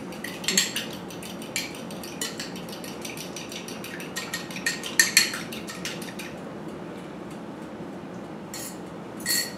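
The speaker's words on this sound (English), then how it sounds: "just kind of whisk our little egg up slightly" An egg whisked in a mixing bowl while making a chocolate sour cream cake, giving quick clinking strokes of a utensil against the bowl in bursts, then quieter before a final clink.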